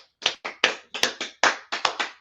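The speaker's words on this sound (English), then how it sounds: "let's clap it up for everybody in there" A small group claps in a room in quick, slightly uneven bursts, about a dozen sharp claps in two seconds, close and loud with no talking.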